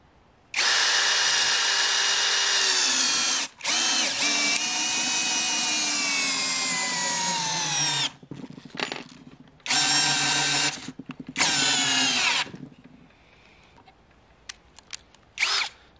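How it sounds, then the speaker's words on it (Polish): A Parkside Performance PSBSAP 12 A1 12-volt cordless drill driver drives screws in several bursts: one long run, then shorter pulses with brief pauses and faint clicks between them, close and loud. "włożymy samego bita, no to oczywiście wkrętarka radzi sobie lepiej z wkręcaniem"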